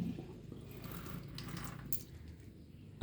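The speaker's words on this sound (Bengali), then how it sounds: "এটা ধুয়ে জলটা এখানে ফেলে দিচ্ছি" Rinse water poured out after washing something in a kitchen, a faint steady splashing trickle of liquid, quiet and close, with a slight clatter at the very end.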